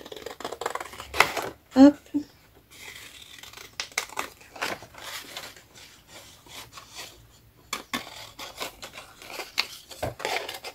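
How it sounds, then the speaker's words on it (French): Scissors snip a small paper image for a scrapbook recipe page, giving short, quiet cutting and rustling sounds in irregular bursts, with a brief spoken word and handling noise in between. "Donc, je vais la couper au ciseau."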